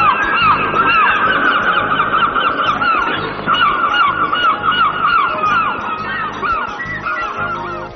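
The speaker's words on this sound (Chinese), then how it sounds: "岛上的海鸥数量最多可达到20多万只" A large colony of seagulls on a small seabird island calls continuously, overlapping nasal squawks and yelps from many birds, loud and close, with no talk.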